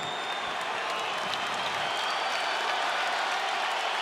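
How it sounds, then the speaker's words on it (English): An arena crowd applauds after a UFC round in the Volkanovski versus Ortega fight, a dense, continuous wash of clapping and cheering that holds steady throughout. "Crowd enjoying the back and forth nature of it."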